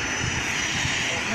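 An airplane arriving at an airport, a steady broad roar of aircraft engines that fills the clip, heard continuously and fairly loud.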